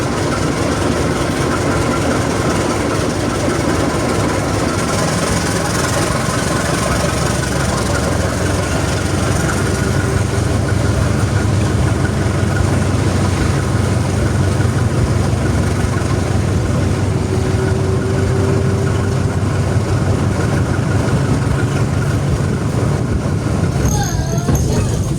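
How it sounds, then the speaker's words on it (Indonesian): A Kaligung train locomotive departing Pemalang station roars loudly and continuously, its engine droning steadily higher as the train gathers speed, with rumbling and clatter throughout. "Suara deru mesin lokomotif semakin meninggi, menandakan kereta berjalan semakin cepat"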